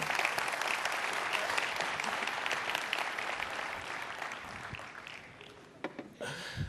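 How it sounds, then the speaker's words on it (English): Sustained applause from a conference audience, dense and steady clapping that gradually thins and fades toward the end, with a brief final burst. "Ladies and gentlemen, let's hear it for John."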